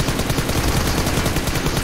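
Rapid gunfire from PUBG Mobile in dense, overlapping bursts of shots, loud and close, forming a continuous barrage with no talk.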